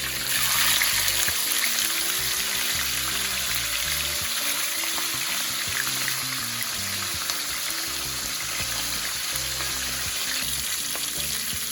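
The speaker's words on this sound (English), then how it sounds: "when you're adding the fish in the pot, you add it like this" Fish fries in hot oil in a pot for a Jamaican escovitch dish, a loud, steady crackling sizzle that continues without a break.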